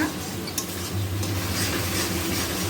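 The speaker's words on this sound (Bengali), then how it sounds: "মশলাটা ভালো করে কষিয়ে নেব" Spice paste stir-fried in a pan makes a steady soft sizzle with scraping stirs of a spatula, fairly quiet and continuous, with one small knock early on and no speech.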